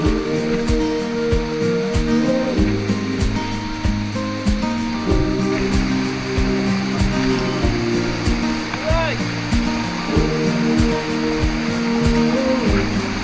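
Miyamit Falls in Porac, Pampanga pours with a constant broadband rush of water, while people shout and chatter over it and faint music plays along.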